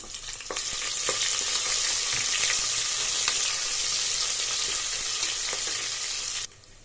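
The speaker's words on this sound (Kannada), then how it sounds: "ಒಂದು ಮೀಡಿಯಂ ಈರುಳ್ಳಿನ ಹಾಕೋತಾ ಇದ್ದೀನಿ ಹಾಕ್ಕೊಂಡು ಲೈಟಾಗಿ ಗೋಲ್ಡನ್ ಗೋಲ್ಡ್ ಬರೋವರೆಗೂ ಫ್ರೈ ಮಾಡ್ಕೊಳ್ಳಿ" A medium onion frying in a pan for Ambur-style kushka, a dense steady sizzle that starts up at once, carries a few faint stirring scrapes, then cuts off near the end, with no talking.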